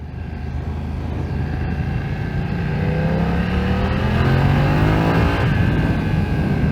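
A 2020 BMW F900XR motorcycle engine pulls hard through a gear, its steady drone rising in pitch as it accelerates, loud and close for the whole stretch with no voices.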